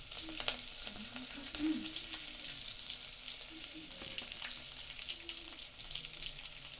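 Mustard seeds, garlic and curry leaves sizzling in hot oil for sambar, a steady close crackling fry with occasional stirring scrapes and no voices.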